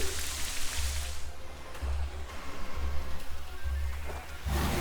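Steady rain effect from the Rain Dance move in a Pokémon video game battle: a continuous wash of falling rain with soft low thumps throughout, moderately loud, with no talking.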